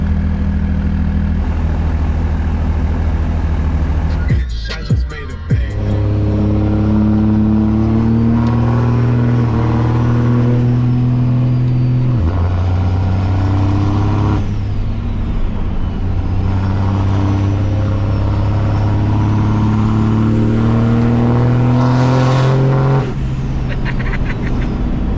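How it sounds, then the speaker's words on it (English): A big-turbo Cummins diesel truck engine of about 1000 HP revs loudly and continuously, rising and falling in long pulls with a rasping, droning tone and a brief hiss-like break early on. "That rasp, that crack, that big turbo behavior is not something that we really had on 8-ball."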